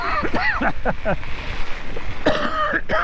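A few harsh coughs and throat-clearing bursts sound close by, separated by pauses, with a breezy outdoor rush in the background.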